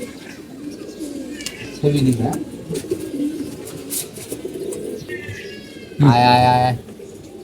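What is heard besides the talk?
young pigeons cooing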